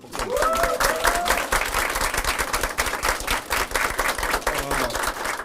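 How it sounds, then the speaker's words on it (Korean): A crowd at a Korean Democratic Party political event claps enthusiastically with sustained applause throughout, with a few faint voices calling out in the mix. "박수 한번 쳐주십시오"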